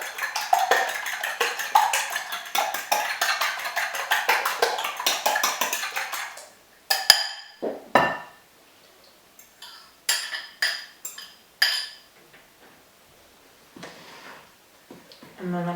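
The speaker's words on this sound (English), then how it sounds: "Just whisk those slightly before we add them." Eggs being whisked by hand in a bowl, a rapid, steady clinking of whisk against bowl for several seconds, then scattered separate knocks and scrapes of utensils.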